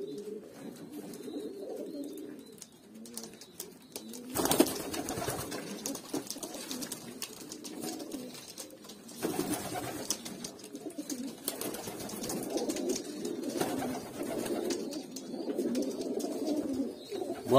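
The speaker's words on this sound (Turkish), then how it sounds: "Hepsi gümbür gümbür ötüyorlar." Hünkari pigeons cooing in a coop, a chorus of low throaty coos repeating steadily and overlapping, close and fairly loud, with occasional rustling and wing flutters.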